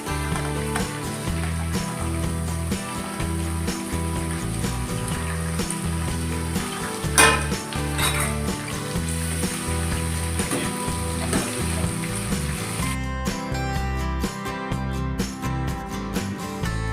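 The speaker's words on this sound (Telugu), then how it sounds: "అవి కూడా లైట్గా వేగించుకోవాలి" Tomatoes and green chillies frying gently in a pan over a low flame, a steady close sizzle with a few stirring knocks and faint music underneath.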